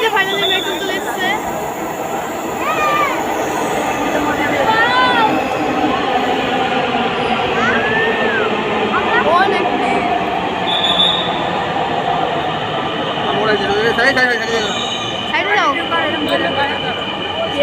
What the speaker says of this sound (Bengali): তো ওই যে ফাইনালি মেট্রো চলে এসছে।